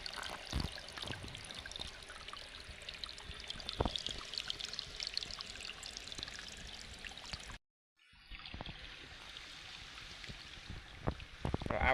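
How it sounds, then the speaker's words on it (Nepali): Water from a small stream flows continuously as a steady, close rushing wash, with a sudden brief drop to silence partway through before the flow resumes. "एकदमै दामी तरिकाले पानीहरू बगिरहेछ"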